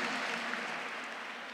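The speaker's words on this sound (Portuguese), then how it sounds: "Aplauda para valer." Sustained applause from a Portuguese-speaking Catholic gathering, a dense even wash of many hands clapping that slowly fades in level.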